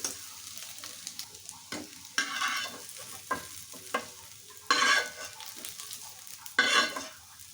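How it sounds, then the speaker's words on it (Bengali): Boiled cauliflower being stirred in a pan, with a steady run of scraping strokes and a few louder bursts of sizzling scrapes heard up close, no talking. "ঢাকনাটা তুলে নিয়ে আবার নেড়ে নেব।"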